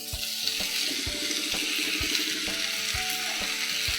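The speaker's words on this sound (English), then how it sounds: "In medium heat, we will saute the zucchini for about 7 minutes" Zucchini sautéing in a pan over medium heat, a steady close sizzle and crackle of frying with regular thumping knocks and faint tonal hum underneath, no talk.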